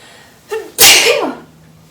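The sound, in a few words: sneeze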